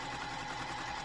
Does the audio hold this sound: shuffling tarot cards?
no